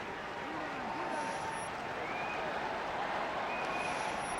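Large stadium crowd at a Dublin versus Kilkenny Leinster hurling semi-final roaring and applauding steadily as Tommy Walsh is substituted, a broad sustained wash of cheering with no talk in it.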